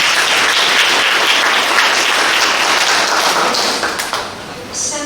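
A forum audience in Suncheon applauds loudly and steadily, dense clapping filling the room, then thinning and fading near the end with a few scattered claps.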